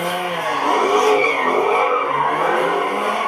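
Dozens of cars doing burnouts at a street intersection produce a loud, continuous roar of screeching tire squeal and revving engines throughout, with no talking.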